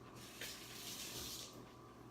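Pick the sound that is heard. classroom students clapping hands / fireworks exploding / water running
water running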